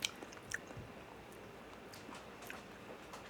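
Close, soft chewing of smoked snow crab claw meat cooked on a pellet grill, eaten without butter. The bites are faint and squishy over a steady low hiss.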